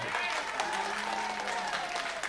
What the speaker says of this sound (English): can you give me an applause is that all right?